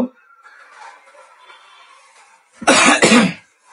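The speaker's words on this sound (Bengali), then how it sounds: "আমার একটু ঠান্ডা লাগছে, এজন্য মাঝে মাঝে কাশি হচ্ছে" A person with a cold coughs twice in quick succession, loud and close, after a stretch of quiet room murmur during a blouse-cutting sewing session.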